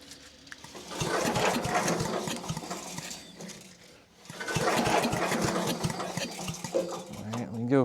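An old piece of power equipment is pull-started by hand: two long rattling cranking bursts from a small engine, each lasting a few seconds with a brief pause between, loud and close.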